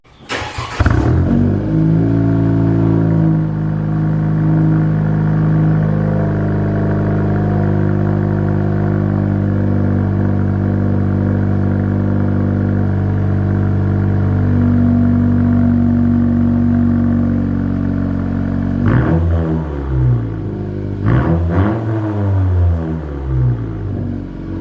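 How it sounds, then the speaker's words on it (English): A 10th-gen Honda Civic Si on its factory front pipe and downpipe cold-starts with a sharp crank and catch, then settles into a loud, steady high idle that drones for about twenty seconds before a couple of blips near the end. "Here we go, the last cold start on the factory front pipe and downpipe."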